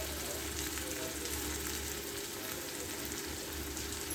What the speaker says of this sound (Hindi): अब इसको अच्छे से सेकेंगे।